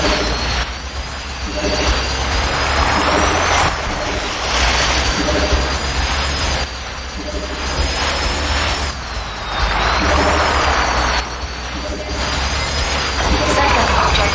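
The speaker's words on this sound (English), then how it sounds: "Why does this jet engine sound like it has gears?" A jet engine in the SpyHunter video game roars steadily and loudly throughout, its pitch rising and falling in stepped, gear-like surges over a constant rumble.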